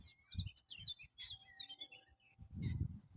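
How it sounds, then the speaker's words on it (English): Several small birds chirp and trill in quick overlapping phrases beside the Macclesfield canal on a countryside walk, with soft low rumbles of wind or footsteps underneath. "Birds are singing."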